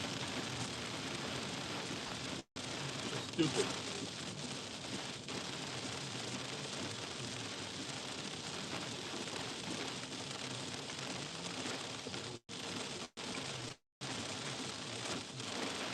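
Heavy rain drums steadily on a car's roof and windshield while it drives on a 55 mph road, a dense continuous wash with a few brief dropouts and a short muttered remark partway through.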